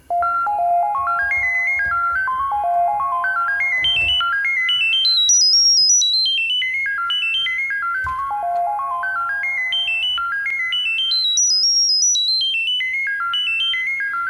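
A bright, resonant Moog Grandmother synth arpeggio, its filter resonance self-oscillating, climbs and falls in quick stepped notes, repeating the rising-and-falling pattern twice, clear and alone.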